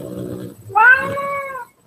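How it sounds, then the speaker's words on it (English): A house cat lets out one drawn-out, wailing meow, close and clear, after a low murmur of background noise. "And then my cat now."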